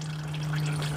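Engine oil drips slowly from the drain of a 2012 Honda Civic during an oil change, a faint, steady trickle against a low constant hum.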